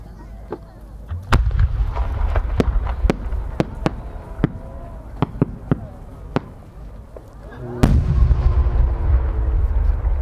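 Aerial firework shells boom and crackle in the distance at a 2018 Aizu fireworks competition for No. 8 shells, a series of sharp bursts and pops, with a loud blast near the end and crowd noise beneath.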